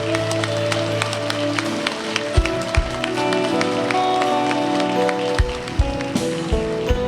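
Congregation applauding at a baptism service, scattered claps over sustained organ-like music, moderate in volume and fairly steady throughout.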